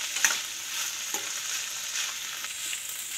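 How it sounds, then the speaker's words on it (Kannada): Beetroot palya stir-fry being stirred in a pan, a continuous soft sizzle with a few scraping strokes of the spoon, close and fairly quiet with no voices. "ಇದನ್ನ ಚೆನ್ನಾಗಿ ಮಿಕ್ಸ್ ಮಾಡ್ಕೊಳ್ಳೋಣ"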